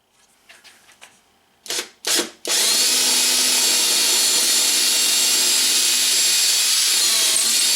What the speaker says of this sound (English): then we'll drill a hole, get this tapped in there